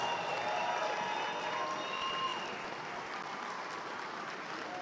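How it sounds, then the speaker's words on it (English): Sustained audience applause at a fall morning commencement ceremony, steady and dense throughout with a crowd murmur underneath, moderately loud and continuous. "Come on, let's give them a round of applause."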